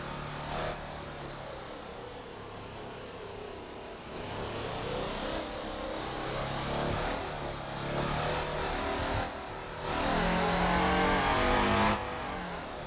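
Car engine in the driving game Motor Town, a pickup-style vehicle with a front-mounted engine, droning steadily and rising in revs through several shifts, loud and continuous with no talk.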